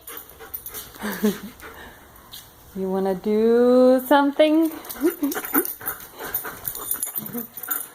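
A dog pants in quick rhythmic breaths at close range, with whining whimpers in the middle, while a person speaks to it.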